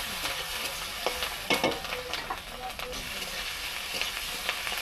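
Green chilies and capsicum frying in a pan for a spicy mrigal fish and eggplant curry, with steady close sizzling and occasional stirring clatters throughout.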